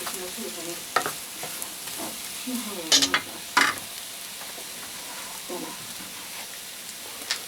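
A spatula stirs thick porridge in a pot, with soft wet scraping and occasional sharper knocks, close by over a steady low hiss and faint voice.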